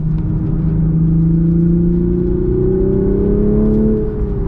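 A 2023 Toyota GR Supra 3.0 manual engine hums loud and steady, its pitch drifting slowly upward then easing off near the end, a continuous close drone with no talk.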